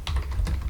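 Quick keystrokes on a computer keyboard, a few crisp clicks close by in under a second.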